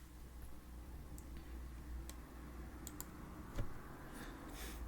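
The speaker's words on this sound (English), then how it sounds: "I don't know why I'm typing it into the computer here." Quiet computer keyboard typing with scattered light key clicks over a low steady hum, sparse and irregular across a few seconds.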